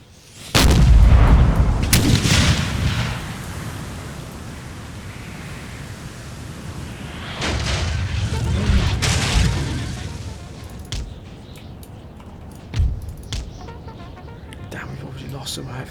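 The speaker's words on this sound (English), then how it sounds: "There's the 6-pounders." 6-pounder cannons fire in a Napoleonic video game battle: a heavy booming volley opens, a low rumble of battle follows, and then later scattered reports come in against a constant noisy background.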